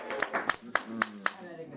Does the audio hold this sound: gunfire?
no